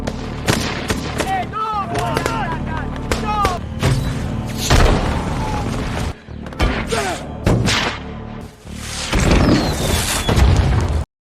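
Rocket explosions tear through embassy buildings in a film battle scene, a dense run of booming blasts and gunfire-like bursts layered over dramatic music, loud and continuous with brief lulls.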